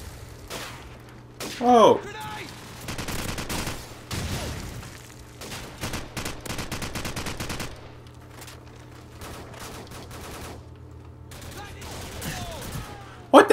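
AK rifle gunfire in Call of Duty 4 multiplayer, with rapid loud bursts of automatic shots and scattered single cracks across the scene, mixed with game effects and a brief shouted exclamation.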